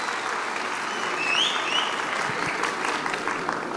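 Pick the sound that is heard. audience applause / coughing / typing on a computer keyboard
audience applause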